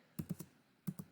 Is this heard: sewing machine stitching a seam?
no